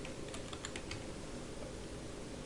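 Keys clatter on a computer keyboard as someone types a filter name into Shotcut video editing software: a quick, steady run of soft clicks over a constant background hum.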